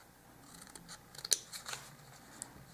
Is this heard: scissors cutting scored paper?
yes